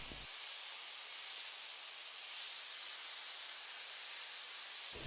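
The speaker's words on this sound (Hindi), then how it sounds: "थोड़े से तेल में मैंने डाला है red bell peppers, yellow bell peppers, onions और मशरूम्स।" Red and yellow bell peppers, onions and mushrooms sauté in a little oil, giving a steady, even hiss of sizzling that holds for several seconds with no talking over it.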